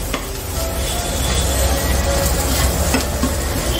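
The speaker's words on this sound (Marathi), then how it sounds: "पाव किलो खिमा. छान परतून घेऊयात." Minced meat (keema) is fried with a wet spice masala in a pan, making a steady loud sizzle with continuous stirring and scraping and no speech.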